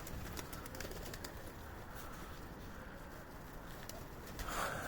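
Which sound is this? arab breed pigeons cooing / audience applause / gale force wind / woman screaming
arab breed pigeons cooing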